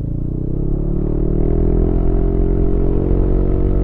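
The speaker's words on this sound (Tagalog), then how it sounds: "Ramdaman nyo yung hampas ng hangin." Steady, heavy wind roars across a helmet microphone on a moving motorcycle with the visor open in an open area, a dense low rumble that stays constant and loud throughout with no talking.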